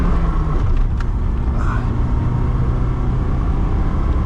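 A 2010 Lada 2107 1.6 with a manual gearbox hums steadily through a U-turn, its low engine and road drone heard from inside the cabin, constant and fairly loud without any speech.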